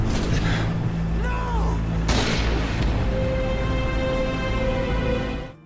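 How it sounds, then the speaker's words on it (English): Sharp gunshots ring out in a video game as General Shepard shoots Roach and Ghost point-blank, one at the start and another loud crack about two seconds in, followed by a fading rumble. "General Shepard, who shoots them point-blank"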